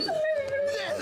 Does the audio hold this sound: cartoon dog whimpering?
yes